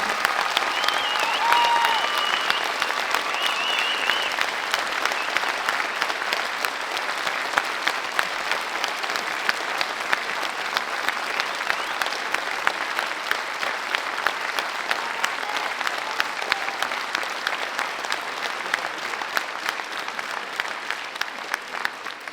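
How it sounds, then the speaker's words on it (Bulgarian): An audience at a folk dance club's anniversary concert in Veliko Tarnovo gives the dancers long, sustained applause, a thick wash of many hands clapping steadily for over twenty seconds, faintly accented by individual claps. "А тяхната най-голяма и искрена награда са вашите аплодисменти. Нека още веднъж им ги подарим."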